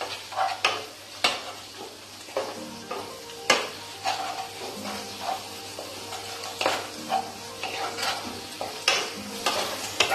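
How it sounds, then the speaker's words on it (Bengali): Spice masala with turmeric and salt is stirred and sautéed in a pan for a Bombay duck dish, a low steady sizzle punctuated by repeated clanks and scrapes of a spoon against the metal. "একসাথে মশলাটা ভালোভাবে কষে নেব।"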